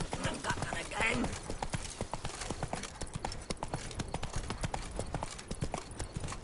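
Roach, a horse in The Witcher 3 video game, trots with clear rhythmic clip-clop hoofbeats throughout, and a voice speaks over the hooves early on.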